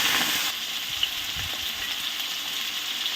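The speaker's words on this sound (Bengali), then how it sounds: "এবার আমি আলুগুলো দিয়ে ভেজে নেব।" Potato pieces fry in hot white oil for a Bengali soybean and potato curry, giving a steady, close sizzle and crackle throughout with a slight louder burst at the start and no talking.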